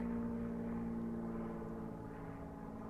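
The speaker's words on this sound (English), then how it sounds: "Little airplane, it's not too bad" A small propeller airplane drones overhead, a steady mid-distance engine hum with a low tonal whine that fades slightly toward the end, with no talking.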